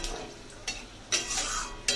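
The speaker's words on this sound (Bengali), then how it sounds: "ফোড়নটাকে একটু ভালো করে ভেজে নিতে হবে" Dry red chillies, cumin and panch phoron frying in hot oil in a pan, with soft sizzling and a few sharp scrapes of a spoon stirring, close and quiet, no talking.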